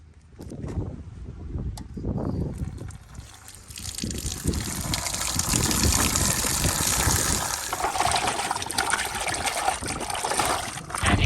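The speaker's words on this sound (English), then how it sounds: "I'm going to empty this out, rinse it off in some clean water" Seatbelt webbing from a Ford BA/BF XR6 being rinsed in clean water, a continuous close trickling and gushing of liquid that starts in brief splashes and then runs steadily and fairly loud until the end.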